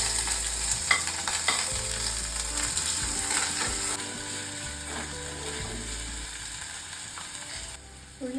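Small shallots frying in hot oil in a pan for a pearl spot fish gravy, a steady close sizzle with scraping stirring and clatter throughout, no talking.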